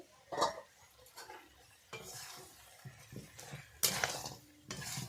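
A spoon stirs chicken kosha with potatoes in a pot, giving scattered scraping clinks against the metal over a soft sizzle, in irregular bursts up close with no talking.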